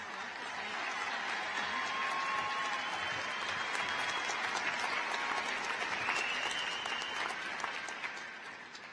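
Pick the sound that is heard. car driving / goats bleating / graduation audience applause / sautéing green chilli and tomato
graduation audience applause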